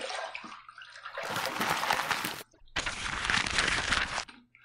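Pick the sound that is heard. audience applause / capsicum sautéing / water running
water running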